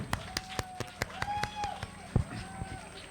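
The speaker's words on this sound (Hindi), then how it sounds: "एक बार सभी आर्टिस्ट के लिए जोरदार ताली हो गए।" Audience at a comedy night stage show clapping for the performing artists, sharp claps landing in a steady rhythm, moderately loud, with voices and tonal sounds running underneath.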